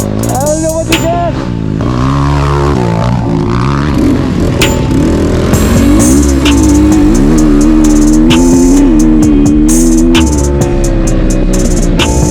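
An enduro motorcycle engine revs loud and close for the whole stretch, pitch climbing and falling as the throttle is worked, with voices talking over it.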